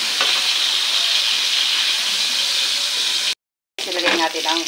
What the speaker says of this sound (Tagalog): Ilagay natin ang bawang dito sa pinagprituhan ng tapos sibuyas.